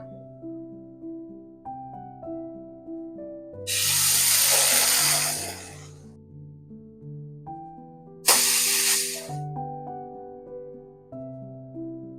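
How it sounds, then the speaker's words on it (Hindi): Bread slice dipped in custard mixture sizzling in butter in a frying pan, two sharp bursts of loud hissing that fade out, over soft background music. "उसे इस मिक्सचर में डिप करेंगे और फ्राई कर लेंगे"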